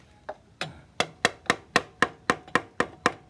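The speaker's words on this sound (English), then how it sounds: "Rubber handle hammer." A rubber-handled hammer strikes about ten times in a steady, even rhythm, each blow a sharp, close knock with a short ring.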